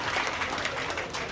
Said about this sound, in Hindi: एक बार इनके सम्मान में दोनों हाथ खोल के तालियों का महोत्सव कर दीजिए